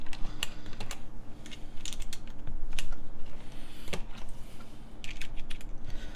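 Rapid typing on a Xingzhi mechanical keyboard fitted with Qin Seal switches, a busy run of close, crisp key clacks with uneven rhythm over a steady low hum, no voices.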